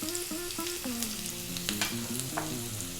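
Onion, garlic and ginger fry in a pan over high heat for a potato mushroom curry, a steady close sizzle with scraping stirs and a few sharper spatters, while sustained background tones run underneath throughout.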